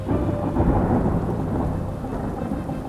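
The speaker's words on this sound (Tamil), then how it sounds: "சென்னை நகரத்தில் ஒரு நாள் இரவு நல்ல மழை பெஞ்சிட்டு இருக்கு." Heavy rain pours down at night in Chennai with rolling thunder, a dense, steady roar close by that stays loud throughout without letup.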